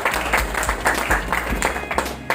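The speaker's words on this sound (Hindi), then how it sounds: "ताली जबरदस्त, जोरदार।" An audience at a leadership talk breaks into loud, vigorous applause, a dense burst of many hands clapping close by for a couple of seconds.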